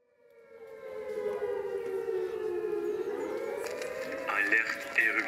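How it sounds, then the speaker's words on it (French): A civil defense siren sounds a volcanic eruption alert, a long loud wail that swells in and holds steady, its pitch dipping and then rising again with a harsher upper tone near the end. "Alerte éruption volcanique. Veuillez évacuer les lieux proches du volcan."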